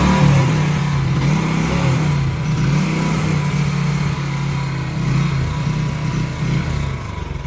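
A Royal Enfield motorcycle with its choke on idles loudly and steadily close by, the engine thrumming with uneven slight revving throughout and no voices.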